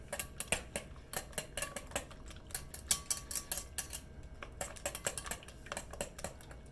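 A whisk beating eggs with pepper in a bowl for ham and cheese breakfast muffins: quick, uneven clicks and taps against the bowl, quiet and close, with no voices.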